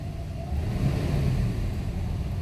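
A Mercedes W126 engine with a new ignition coil revving up from idle, a low rumbling surge that stays raised and steady for a couple of seconds, close by.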